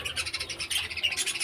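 Pet birds perched on a wall give rapid high chirping and squawking calls in quick pulsing bursts, close and fairly loud with no talk.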